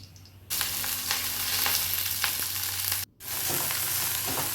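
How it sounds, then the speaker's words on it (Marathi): Potato sabzi hits hot oil tempering in a pan and fries with a loud, steady sizzle, broken by a brief pause, then crackling on, close up with no talk. "बटाट्याची भाजी आपली फोडणीत घालत आहे"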